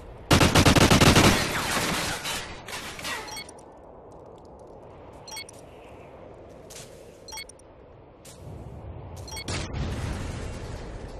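Automatic gunfire rattles out in rapid bursts in a video game. A long loud volley opens the clip, followed by scattered single shots and another heavy burst near the end.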